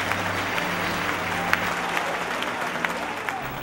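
Church congregation applauding Jesus during a revival service, a sustained roar of many people clapping, with crowd noise and a voice mixed in underneath.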